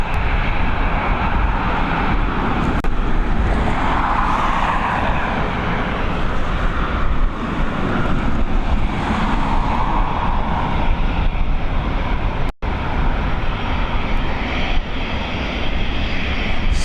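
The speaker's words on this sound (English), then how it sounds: "Swedish ATR, I don't think I've seen that before" A Swedish ATR turboprop at Dublin Airport on runway 28L in the evening, its engine roar loud and steady throughout, swelling and easing slightly as it passes, with no talk over it.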